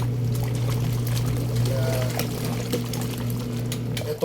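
Water pours from a shower head while laundry is being done beside a new washing machine, a steady close splashing flow with a low hum underneath and a brief word spoken over it.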